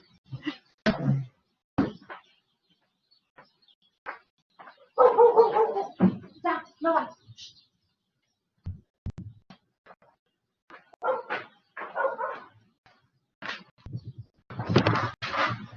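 A small female dog barks in scattered bursts near a window, some single and some in quick runs, fairly close, with silent gaps between them.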